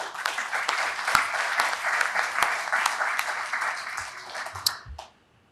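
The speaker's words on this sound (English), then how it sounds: "we owe you a round of applause as well" Audience at a cardiomyopathy community keynote gives a warm round of applause, dense clapping with some sharper individual claps, fading out near the end with a faint voice or two underneath.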